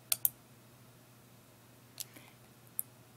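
Sharp, close computer mouse clicks, a quick pair at the start and then two single clicks later, each standing out against a quiet background hum with no talking.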